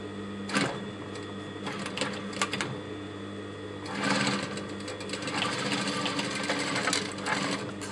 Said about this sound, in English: I'm going to stitch straight down.